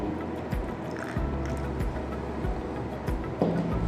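Hard water poured from a measuring vessel into a glass test tube during a school soap-cleaning experiment, a soft continuous trickle with small splashy bursts, close and steady with no talk.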